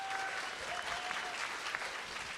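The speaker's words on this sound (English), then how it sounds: "give yourselves a round of applause" A crowd at the Ubisoft Toronto NEXT awards ceremony applauds itself, soft, distant clapping that forms a continuous hiss with a faint tone held beneath it.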